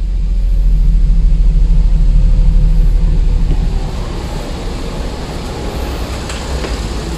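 A Perodua Viva's engine runs steadily with a low, continuous rumble, loud and close throughout, easing slightly after the midpoint, with no one speaking.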